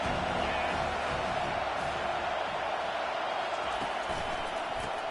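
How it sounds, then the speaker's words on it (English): A home crowd at a football game produces a dense, continuous roar of noise that stays steady and fairly loud from start to finish, with no distinct voices standing out. "Man, this crowd really affecting the football game."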